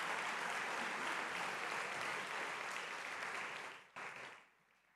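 Audience applause following an ambassador's powerful performance at a formal evening program, dense and sustained for about four seconds before tapering off quickly into quiet.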